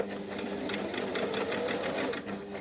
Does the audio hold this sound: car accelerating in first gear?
no